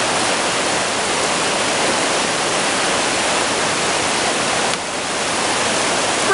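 A creek flows along a hiking trail on the way to Naramata Creek Falls, a steady, full rush of water close by and loud, with a brief dip near the end.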